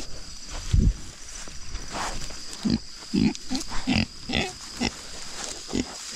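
Three Kune pigs in a farm pen grunt in short, irregular bursts over a constant background of insect or outdoor hiss, with no talking.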